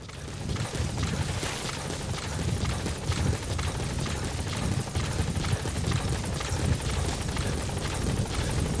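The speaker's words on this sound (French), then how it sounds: "The support helicopter has arrived." The support helicopter in Metal Gear Solid V arrives, its rotor producing a dense, steady whumping roar with rushing wash noise, continuous and fairly close, with no talking.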